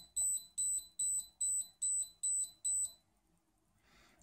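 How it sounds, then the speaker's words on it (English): A Sharp PC-1262 pocket computer calculator beeps seven times in a steady, even rhythm, each beep short and high-pitched, followed by near silence. "And now it's beeping."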